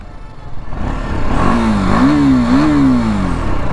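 A motorcycle engine on a high mountain road revs up and down in a few rising and falling swells, loud and close, with no talking.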